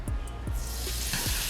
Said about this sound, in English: You want that sizzle, you want that shh.